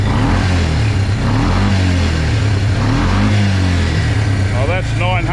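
A quad bike engine runs continuously after an idle adjustment, with a steady mid-pitched drone and a few rising revs near the end, fairly loud and close, with a self-governing choke.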